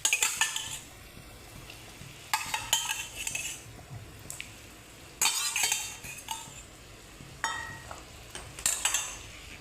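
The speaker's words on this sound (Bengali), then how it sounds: "এখন দিয়ে দেবো ডিম আর আলু।" Eggs and potatoes go into a simmering egg curry with repeated clinks of a metal spoon against the pot in short bursts over a low bubbling hiss.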